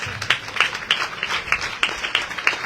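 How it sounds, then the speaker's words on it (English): Audience applause at an evening Sri Bhagavata-saptaha discourse: a moderate, steady run of many hands clapping with an uneven rhythm, heard alone. "Applause, applause."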